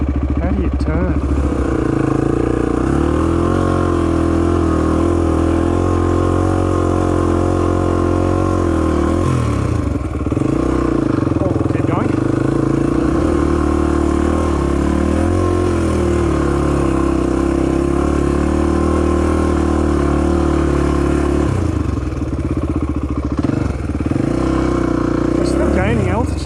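Honda XR250 motorcycle engine labouring up a steep, scary hill climb, a steady loud mid-pitched drone held in low gear with slight surges and dips, continuous and close throughout.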